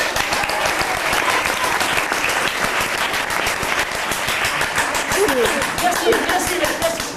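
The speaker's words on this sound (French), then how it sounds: "On les applaudit s'il vous plaît." Dense audience applause fills the space steadily and loudly, with many hands clapping at once after a French stage host calls for it at a podium event.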